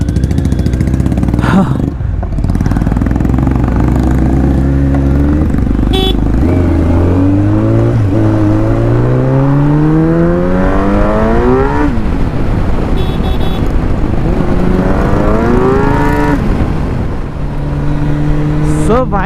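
A Kawasaki Ninja Z900 motorcycle is ridden in Kolkata, its engine droning loud and steady throughout, pitch climbing and falling through repeated gear changes and revs, with a voice speaking intermittently over it.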